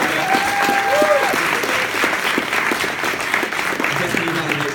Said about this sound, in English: maybe a round of applause for that